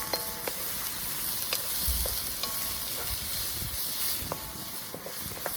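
Food stir-frying in a pan over coals outdoors while making Cape Malay bobotie: a continuous close sizzle and hiss, punctuated by occasional clinks and scrapes of stirring.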